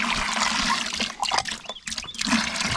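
Water gushes from an outdoor hand pump in a steady, splashing stream close to the microphone, briefly dipping and sloshing as the flow pulses, with no talk over it.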